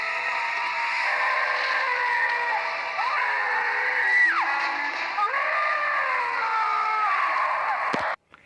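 Jason Voorhees screams in the unmasking scene of the 1989 film Friday the 13th Part VIII: Jason Takes Manhattan, a loud, sustained, wavering howl lasting about eight seconds before cutting off abruptly.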